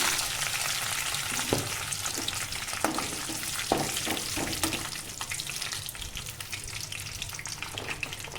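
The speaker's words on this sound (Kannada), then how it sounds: "ನೋಡಿ ಎಣ್ಣೆ ಕಾದಿದೆ ಅಲ್ಲಿ ಸೌಂಡ್ ಬರ್ತಿದೆ ಇವಾಗ ನಾನು ಕರ್ಬೇವು ಹಾಕ್ತೀನಿ" Curry leaves dropped into hot oil for a drumstick fry, sizzling loudly and close with a dense continuous crackle and scattered sharp pops and spatters over the full stretch, no voices.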